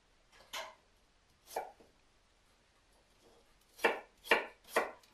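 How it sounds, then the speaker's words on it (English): Apples sliced with a knife on a board for apple crumble, five sharp chopping cuts, two spaced apart and then three quick ones in a row, close and crisp against near silence. "And we just slice our apples."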